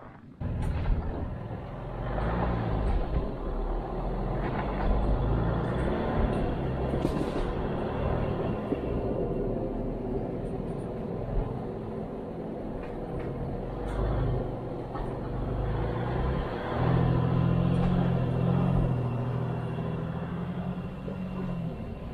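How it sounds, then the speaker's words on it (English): Jeeps roll slowly past on the Soldier Pass off-road trail in Sedona, Arizona, a steady low engine rumble building and fading over about twenty seconds, with tire crunch and an engine swelling louder near the end. "I just pulled over to let a couple of other Jeeps go by onto the side of the trail"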